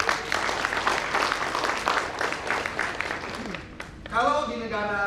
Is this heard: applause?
yes